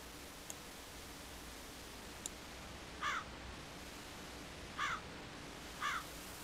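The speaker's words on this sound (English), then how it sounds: "I know it's only bird sounds" Ambient bird calls from the Nintendo 3DS game Majora's Mask: three short, raspy crow-like caws at irregular intervals, faint and distant over a quiet hiss, with a couple of tiny ticks and no talking.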